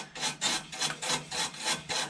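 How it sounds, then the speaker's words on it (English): A wire brush scrubs rusty screws lubed with WD-40 on a Toyota Starlet during intercooler bracket work, giving a close, rhythmic back-and-forth rasping in about eight even strokes with no voices. "Bit of WD-40 and some wire brush action seems to be doing the business."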